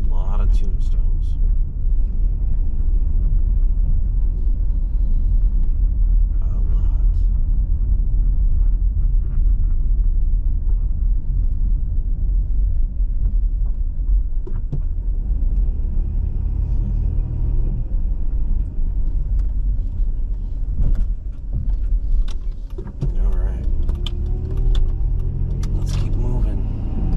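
Car driving along Lansing through Slavic Village toward Cuyahoga Heights, with a steady low road rumble from engine and tires throughout and a few brief clicks and knocks from inside the cabin.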